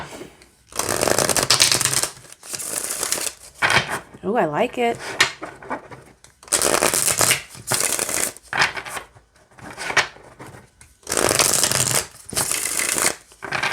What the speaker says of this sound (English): I'm going to just shuffle them all.